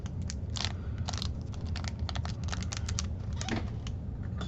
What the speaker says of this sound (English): let's start cracking open some cards, shall we?